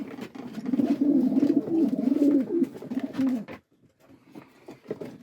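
Racing pigeons in a Polish breeder's loft coo in a low, warbling run that swells and rolls for several seconds, then breaks off into quiet with a few faint stirrings.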